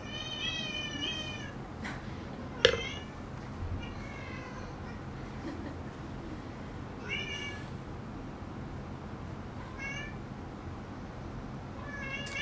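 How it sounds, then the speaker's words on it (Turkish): An affectionate cat meows repeatedly at close range, with several drawn-out, rising calls spaced every few seconds over a quiet room hum. "Sevgi dolu bir kedi."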